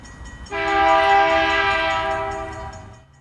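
A CN M315 freight train's lead GE Evolution locomotive sounds its K3H horn in one long, loud, chorded blast that holds steady for over two seconds before cutting off, with faint rumble beneath.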